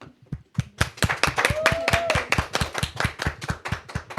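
A studio audience claps for a departing guest at the close of a Catholic talk show, with distinct, rhythmic hand claps at a steady, moderately loud pace. A brief whistle-like tone rises mid-way.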